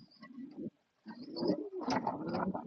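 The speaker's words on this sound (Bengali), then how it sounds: "দেখেন মাশাআল্লাহ কি সুন্দর দুইটা কবুতর" Two large fancy pigeons, a male and a female, coo in close repeated low bursts with a short pause partway through, alone and near.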